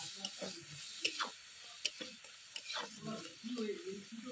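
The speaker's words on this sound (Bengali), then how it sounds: "দিয়ে দেবো অল্প পরিমাণে জল, দিয়ে মশলাটা ভালো করে কষিয়ে নেব।" Fried spice paste with a little water sizzles in a pan as it is stirred, a soft close hiss broken by scraping strokes and faint clinks, with quiet speech mixed in.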